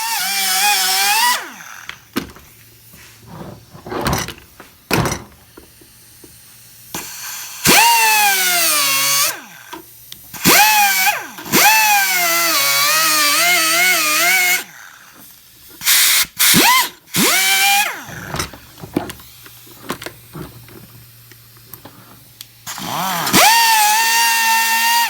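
A rotary power tool whines through short bursts as it cuts plastic off a CRF450X air filter cage. Its pitch rises and falls as it starts up, bogs down and stops, with quiet gaps between cuts.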